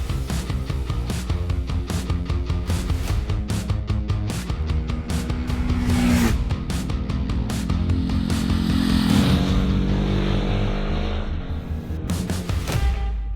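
Ducati SuperSport 950S sports tourer riding on the road, its engine droning loud and steady with rising and falling revs and pulsing exhaust throughout.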